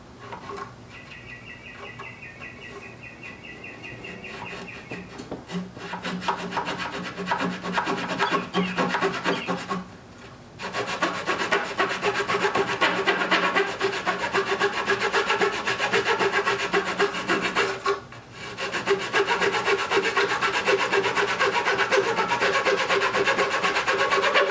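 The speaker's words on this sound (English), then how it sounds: "take a little saw. In my case, I'm just using this hacksaw blade." A hacksaw blade saws off excess wood on a DIY TV console, with rapid rasping back-and-forth strokes that pause twice briefly, close and moderately loud with no talk.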